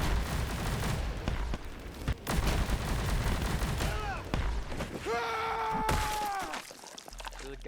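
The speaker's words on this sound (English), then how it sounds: "that's a grenade" Dense gunfire crackles through a chaotic video game firefight, punctuated by booming blasts that could include a grenade going off, with sweeping whistles and tonal effects near the end; voices murmur underneath.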